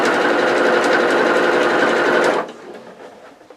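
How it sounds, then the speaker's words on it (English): A sewing machine runs steadily, stitching across folded, ironed bias binding tape, its loud continuous motor whir lasting about two and a half seconds before stopping abruptly, leaving only faint room tone. "I'm going to sew across the"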